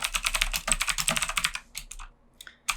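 Code typed on a computer keyboard, close and crisp, with fast bursts of clicking keystrokes, then a brief pause and a few scattered final taps.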